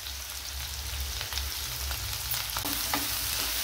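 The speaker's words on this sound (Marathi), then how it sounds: "कांदा भाजून घेते. कांदा, लसूण," Onion, garlic and green chilli fry in a pan, giving a continuous close crackling sizzle with faint scraping, steady and fairly loud, with no voices.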